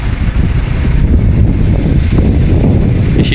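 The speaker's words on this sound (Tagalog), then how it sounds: "Lakas ng hangin." Strong wind buffeting the microphone at a ship ramp by a docked vessel, a loud, continuous low roar with gusty rumble throughout and no talking.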